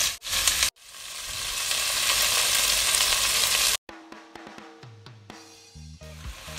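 Beef for a ragu sears loudly in a very hot pan, a dense continuous sizzle running for several seconds, briefly cut off twice and then giving way to quieter clinks and scraping sounds.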